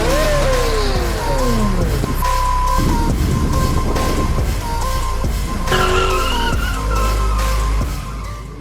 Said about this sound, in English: Nothing beats old engines.